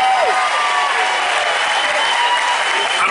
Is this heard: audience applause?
yes